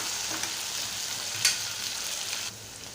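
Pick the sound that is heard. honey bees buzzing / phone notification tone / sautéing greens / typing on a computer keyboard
sautéing greens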